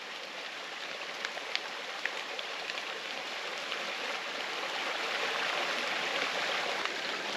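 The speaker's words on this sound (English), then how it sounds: "here we are, Henderson Creek." Henderson Creek on the Ozark Trail in Missouri flows steadily over rocks, a constant broadband rushing babble with faint scattered droplet ticks, close and alone with no talking.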